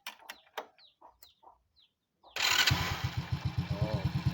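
A noisy Honda Supra motorcycle engine with a fault is started after faint clucking from chickens nearby, then idles close by with a rough, rapidly pulsing putter.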